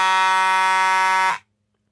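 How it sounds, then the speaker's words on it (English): A Simplex BG-50 fire alarm pull station horn blares in one loud, steady, harsh buzzing tone for over a second, then cuts off abruptly into silence. "it will make the alarm go off, continuously sounding the horn"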